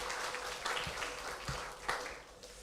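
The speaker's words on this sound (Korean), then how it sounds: "우리 축하의 박수 한번 보내드리도록 하겠습니다" A university chapel congregation at Hanyang University gives a short round of congratulatory applause, a brief burst of mixed claps from a seated crowd.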